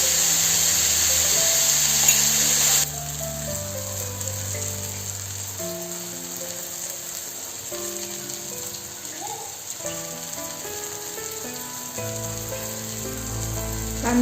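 Onion and tomato frying in a pan with a continuous soft sizzle, close and even, while faint tones play in the background and nobody speaks.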